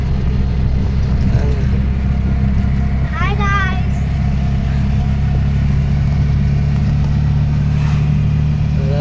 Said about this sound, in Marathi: समीक्षा गाडी चालवते इकडे